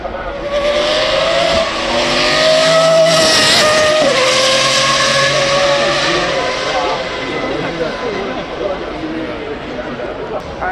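Toyota GT3 race car driving up the hill at the Goodwood Festival of Speed, a loud engine roar with rising and falling pitch as it accelerates past, while a commentator talks over it.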